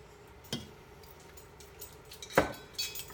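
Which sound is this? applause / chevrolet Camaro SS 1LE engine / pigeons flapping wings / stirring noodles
stirring noodles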